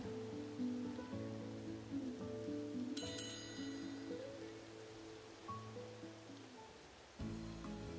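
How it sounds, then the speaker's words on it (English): Rain falls in Final Fantasy XV, a soft, continuous hiss sitting quietly beneath sustained musical tones. "Camping camp sucks when it rains."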